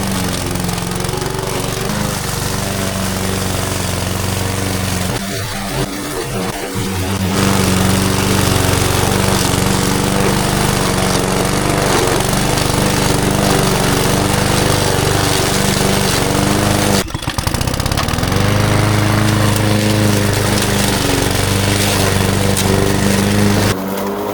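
A PowerSmart 22-inch self-propelled gas lawn mower cuts through medium-tall grass with its bag fitted, its engine droning loudly and continuously up close, labouring briefly and dipping in pitch at a couple of moments.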